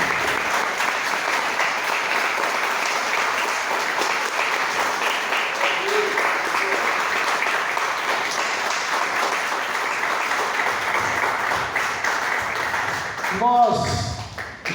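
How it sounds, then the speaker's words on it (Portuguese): Church congregation applauding during a worship service, a long steady round of clapping from many people with a faint murmur of voices, ending in a brief louder burst of sound. "Vamos dar uma linda salva de palmas para Jesus."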